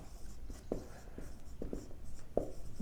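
A pen writes a subheading by hand, giving short scratchy strokes and taps in an irregular rhythm, close and fairly faint, with no talk over it.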